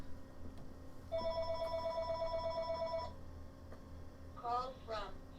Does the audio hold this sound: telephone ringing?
yes